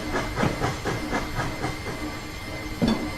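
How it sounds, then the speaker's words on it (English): Steam locomotive pulling away slowly in the Railworks train simulator game, rhythmic chuffing puffs of steam over a continuous hiss, with a louder exhaust beat near the start and another near the end. "Let the locomotive slowly gain speed."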